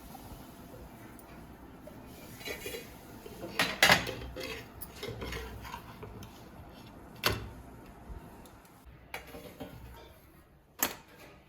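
Talipatti flatbread is lifted and flipped in a pan in a home kitchen, with scattered metallic scrapes, taps and clinks of a utensil against the pan, some sharper knocks, and a quiet background between them.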